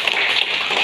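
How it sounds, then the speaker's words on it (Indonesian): Brief burst of scattered clapping from a classroom group honoring presenters, a steady close patter of many hands. "Kita beri aplaus pada kelompok 2."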